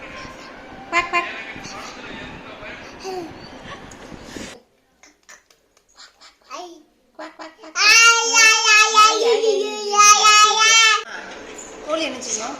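A voice imitates a duck's quacking in a string of repeated, loud, close calls, with softer babbling and quiet gaps before them.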